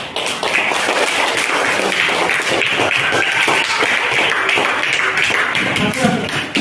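A classroom of students claps their hands together at a teacher's prompt during an Isra Mi'raj lesson, producing loud, brisk, continuous clapping close by with some uneven taps and shuffling.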